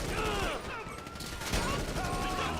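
Rapid automatic gunfire from a machine gun in GTA Online, a dense continuous burst with a brief dip midway, close and loud, with faint voice chatter mixed in.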